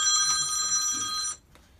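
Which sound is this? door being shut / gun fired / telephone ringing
telephone ringing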